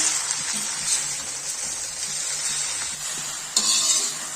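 Gongura pickle mixture simmering in a pan on low heat, a loud continuous sizzle with rhythmic stirring strokes and a brief louder scrape near the end.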